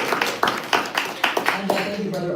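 Audience applause at a community program, sharp irregular claps rising and thinning over a couple of seconds, fairly close, with no voices over it.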